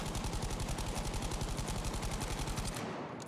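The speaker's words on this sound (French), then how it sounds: "Je vise, je tire." Rapid automatic fire from a video game weapon, dozens of shots in a tight, regular rhythm, loud and close, ending abruptly near the end with a brief tail.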